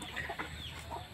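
Aseel chickens in a coop give soft, faint clucks and short murmurs in quick succession over a low, muffled background.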